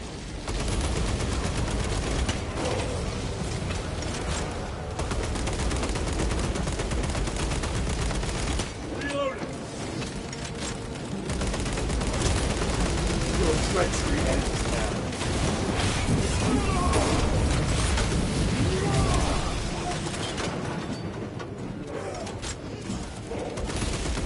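Sustained gunfire and bursts of automatic weapon fire in the Warhammer 40,000: Space Marines 2 video game, loud and dense with brief lulls, mixed with mechanical clatter and occasional voices over game effects.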